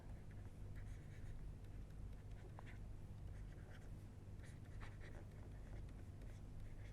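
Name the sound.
lecturer writing on the board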